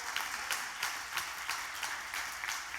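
Congregation applauding in church during a sermon, a dense, continuous clapping with rhythmic swells, fairly loud and close, with no talk.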